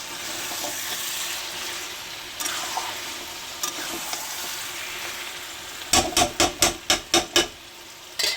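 Jackfruit and potato curry sizzles in a pan under a continuous hiss while it is stirred, then a spatula knocks sharply against the pan in a quick series of about seven taps.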